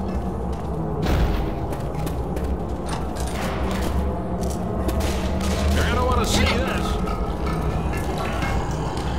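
Repeated gunshots and thumping booms ring out in the video game Left 4 Dead 2, scattered irregularly across several seconds amid game noise and speech.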